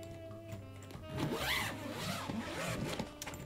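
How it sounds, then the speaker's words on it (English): Expansion zipper on a Samsonite nested luggage set being zipped back up, a close, quick rasping zip drawn across a few seconds with a rising and falling pull. "you simply just re-zip this"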